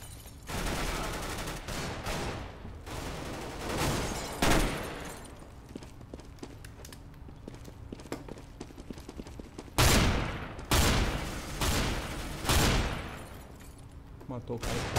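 Bursts of gunfire in Counter-Strike: Global Offensive crack out in several clusters, some in rapid volleys, with a person talking between the shots.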